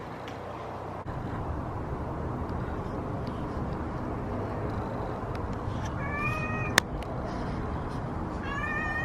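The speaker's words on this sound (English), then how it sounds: "I see the naughty cat." A cat meows a few times inside a house, faint short calls over steady background hum, with no talk.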